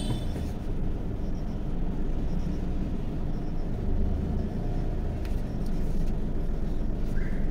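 A safari vehicle reverses along a jungle road in the Sitabani Zone of Jim Corbett, with a steady, close engine rumble that holds at even loudness throughout and no voices.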